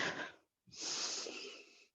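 Deep breaths during a yoga practice, a short airy exhale followed by a brief pause and a longer, louder breath, close and breathy with no talk.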